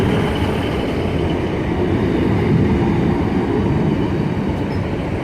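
Two First TransPennine Express trains, paired as a double unit and running from Blackpool North, rumble past at Manchester Airport on the Styal Line with a loud, steady roar of wheels and rail noise and no talk.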